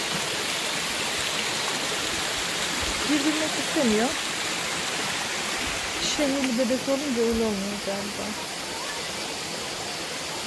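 A stream flows through Tokatlı Canyon in Safranbolu with a constant broadband rush of water. People talk over it at close range.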